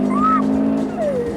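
A 260 brake horsepower all-wheel-drive STI car engine revs briefly, a short loud rising and falling engine note heard close up.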